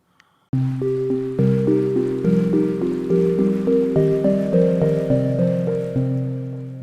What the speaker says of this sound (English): you should get a pretty cool ambient organic Pluck sound like this one